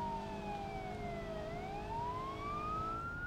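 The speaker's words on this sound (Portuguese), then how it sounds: "já te liguei a sirene aqui que é pra dar o gás" Japanese police car siren in the BeamNG Drive racing game, a steady wailing tone sweeping down then back up, loud and continuous over a low engine drone with no talking.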